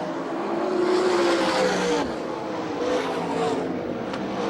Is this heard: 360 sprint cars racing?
yes